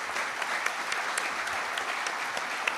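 Steady applause from an audience at a gathering of workers, dense continuous clapping with a few sharper claps standing out, fairly distant and moderately loud with no talking.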